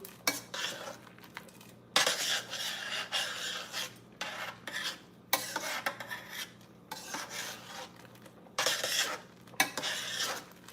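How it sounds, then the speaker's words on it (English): A spoon stirring elbow macaroni in a boiling pot, scraping and clinking against the metal in repeated bursts with short gaps between strokes, close by with no talking. "Keep on turning it because you don't want it to stick in the pot."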